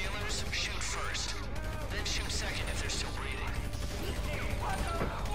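Gunfire in the video game GTA Online: a string of sharp shot bursts and mechanical clatter with game noise, and voices faintly in the mix.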